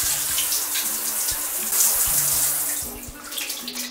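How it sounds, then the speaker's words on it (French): Water pours steadily from a push-button Presto shower tap in a residence bathroom, a loud, close hiss of spray that runs continuously, with soft thuds and splashes underneath and no talking. "J'appuie dessus pour avoir de l'eau et en gros j'ai de l'eau pendant genre 15 secondes."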